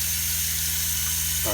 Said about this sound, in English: That sound you're hearing is the water pump.